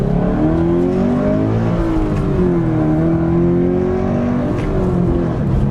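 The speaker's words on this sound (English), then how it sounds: "when I give this vehicle the beans" A 2020 Toyota Supra accelerates hard, its engine note loud and close, rising and sustained with shifting pitch throughout and no talk over it.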